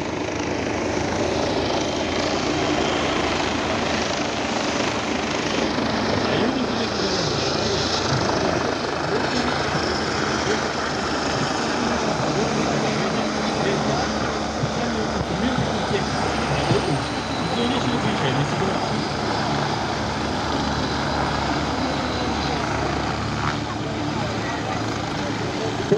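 Medical helicopters, a Bo-105 and a BK-117, arrive at the scene of a simulated railway terrorist attack during an emergency exercise, their loud, continuous rotor and engine roar filling the whole stretch with a steady, dense drone.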